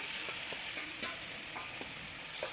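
Grated cucumber stirred and sautéed in a pan over medium heat for a traditional Maharashtrian dish, giving a continuous close sizzle broken by repeated soft scraping strokes.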